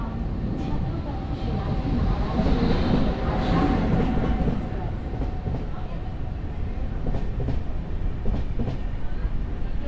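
The Tiruvananthapuram Express, a special train, runs on the rails after leaving the station, giving a continuous close rumble with faint rhythmic clatter of wheels over joints throughout.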